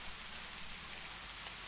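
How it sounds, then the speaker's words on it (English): Heavy rain pours outside, a dense, even hiss of countless drops that stays constant for the whole short stretch, with no voices. "Listen to that rain."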